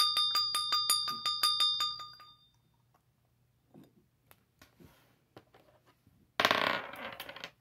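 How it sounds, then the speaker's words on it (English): Dice rattle and clatter across a hard surface in a quick burst of clicks, fading out, with a louder noisy clatter near the end. "Okay, rolling the dice."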